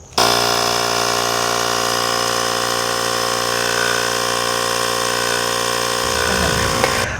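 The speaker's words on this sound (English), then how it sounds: "I'm using the Ryobi battery operated power socket to raise the scissor jacks on the travel trailer" A Ryobi battery-powered socket drive runs steadily to raise the scissor jacks on a travel trailer, a loud continuous motor whine that shifts pitch under load near the end before stopping.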